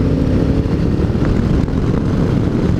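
A 2018 Honda Africa Twin DCT motorcycle rides along in fourth gear: a loud, steady engine drone mixed with heavy wind rush, continuous and close throughout.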